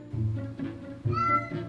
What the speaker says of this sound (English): Come break up the cats. They're fighting and ruining my video.